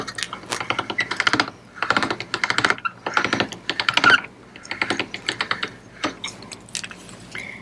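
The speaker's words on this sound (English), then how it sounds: "I'm going to run it through the machine on a number 1" Polymer clay being fed through a clay conditioning machine on its thickest setting, giving a rapid clicking, ratcheting crank rhythm in short repeated bursts with brief pauses, close and clear.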